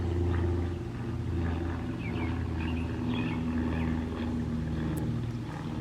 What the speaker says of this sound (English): Notice the sound of the airplane overhead.